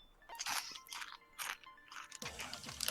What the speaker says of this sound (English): we want to hear you, like, crunch them